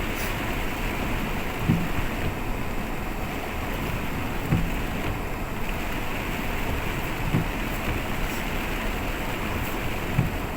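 Heavy rain pours steadily outdoors in a garden in April, a dense, constant hiss that continues unbroken for the whole stretch, with a few faint soft knocks.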